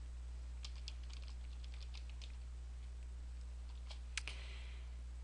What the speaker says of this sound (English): go down underneath it and type in some text